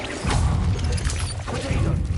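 A Bombarda blasting spell detonates in the action game Hogwarts Legacy, giving a loud, close, crashing impact with dense rumbling debris that lasts about two seconds, with no voices.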